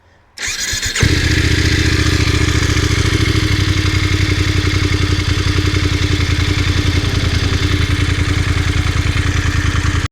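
A Voge DS900X motorcycle engine starts with a clatter and settles into a steady, loud idle, the stock exhaust putting out an even, rhythmic thrum.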